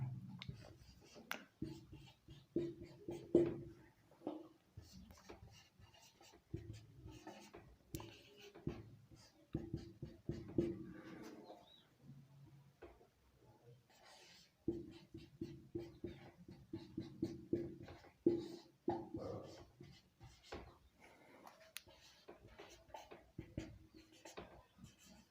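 A teacher writes out domain and range notes during a class on inverse trigonometric functions, producing irregular scratchy taps and strokes in bursts with brief pauses, at moderate, close-up level.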